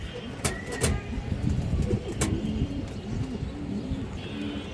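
A female pigeon coos among other birds at a market stall, low repeated coos near the mic with occasional sharp chirps and background bustle.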